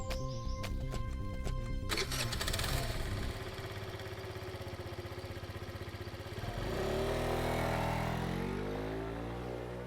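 A vehicle engine runs continuously, first with a steady idle-like rumble, then rising in pitch as it pulls away and accelerates, fairly close, with background music and clatter.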